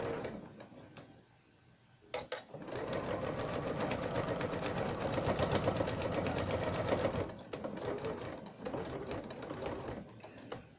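A sewing machine runs in steady rapid bursts, stitching binding onto a pot holder, with a short pause early on and then a long continuous run of close, even needle ticking.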